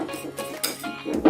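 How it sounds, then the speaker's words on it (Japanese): Eggs being whisked into a sweet potato batter in a bowl, with brisk clinks and scrapes of a utensil against the bowl, close and fairly loud. "ここでめちゃくちゃしっかり混ぜといてください"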